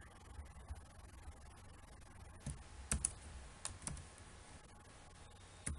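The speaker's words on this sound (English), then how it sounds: "This thing you need to type in your URL bar." Keys tapped on a computer keyboard while entering a web address, a few scattered clicks and short bursts of typing over a quiet room hum, close and fairly soft.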